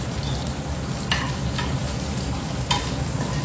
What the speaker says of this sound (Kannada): ಇದು ಆನಿಯನ್ ಫ್ರೈ ಮಾಡ್ಕೊಳ್ಬೇಕು, ಗೋಲ್ಡನ್ ಬ್ರೌನ್ ಆಗ್ಲಿ ಓಕೆನಾ.